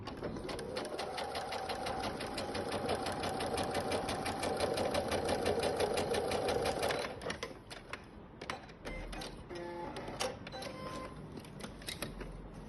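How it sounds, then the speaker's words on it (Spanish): Sewing machine running a seam for a French, English or flat-felled seam comparison, a dense rapid needle chatter held steadily for about seven seconds, then stopping into scattered handling clicks and light knocks. "Y cosemos pues a medio centímetro"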